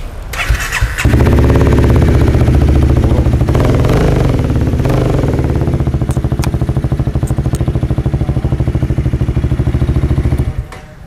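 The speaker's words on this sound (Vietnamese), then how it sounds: "Nghe thử cái tiếng bô độ." A motorcycle fitted with an aftermarket exhaust starts up and revs loudly close by, settling into a rough, throaty idle with rapid popping pulses before cutting off near the end.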